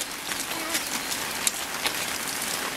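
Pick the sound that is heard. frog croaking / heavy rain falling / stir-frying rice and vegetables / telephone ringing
heavy rain falling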